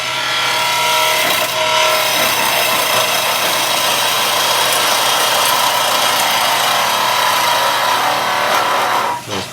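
A skew chisel takes a big cut on spinning wood on a lathe, making a loud, continuous hissing shear over a steady motor hum that runs unbroken throughout and stops abruptly at the end.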